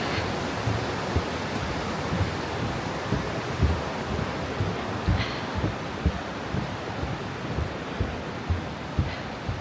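Water pours over a river weir in a steady, loud broadband rush with wind buffeting the microphone, a few sharper thumps and gusts rising out of the roar.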